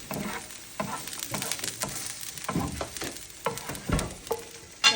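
Ginger beef and garlic stir-fried in a hot pan: a steady sizzle broken by repeated scraping and clattering stirs, close and fairly loud, with no voices.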